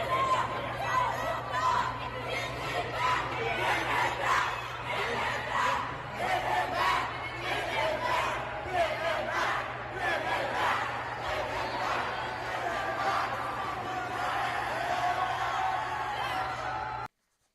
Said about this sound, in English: You can hear the chants, and then you can hear the cheering